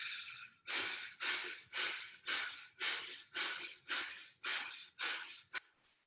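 Rhythmic, forceful breath pumps from a yoga breathing exercise repeat about ten times in steady succession, each a loud close rush of air, with no talking over them.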